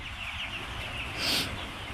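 Native chickens cluck continuously at close range at a poultry chick market, a busy cluster of clucks with one brief louder squawk partway through.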